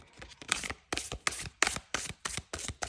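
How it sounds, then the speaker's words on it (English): Tarot cards on stiff cardstock being overhand shuffled, giving a steady run of crisp riffling slaps in quick bursts about every half second, close and fairly loud with no talking. "I had a few problems overhead shuffling. As you can see, this is it's still a bit clumpy."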